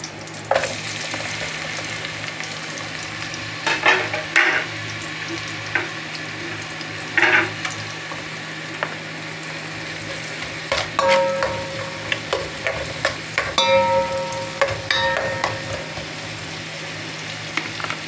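Garlic and onion fry in a pan for chicken sotanghon, a continuous close sizzle broken by scraping stirs and a few sharp clinks of the utensil against the pan.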